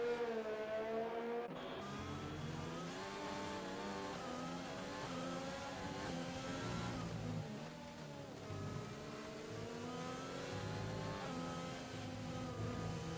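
F1 cars from the F1 2020 racing game running wheel-to-wheel at the Mexican Grand Prix, a continuous high-pitched engine whine with shifting pitch as two cars duel, loud and steady with no talk.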